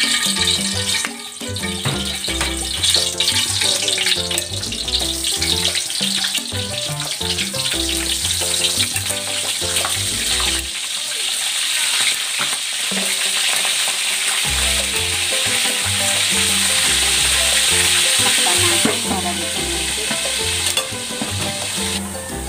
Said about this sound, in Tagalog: iprito natin yung pork. Ilagay tayo ng mantika.